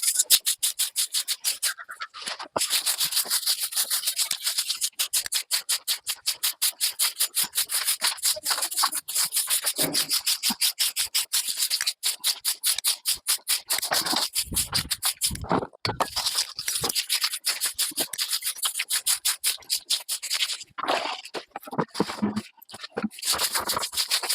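A broom sweeps a house yard in rapid, regular scraping strokes, loud and close, continuing steadily with only brief pauses.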